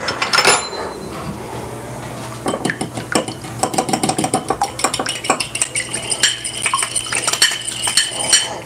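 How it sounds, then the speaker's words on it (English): A fork whisks an egg and water together for an egg wash, making a rapid, steady run of close metallic clinks and taps against a bowl after a brief clatter and a short quiet pause. "So our egg wash is just a bit of water and an egg."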